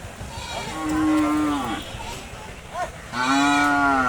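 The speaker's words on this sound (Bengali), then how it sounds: "গরু দেখেন" A bull mooing at a livestock market, two loud drawn-out calls near at hand separated by a short pause, with no talk over them.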